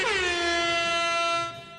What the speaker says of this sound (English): I finally got a royalty-free air horn.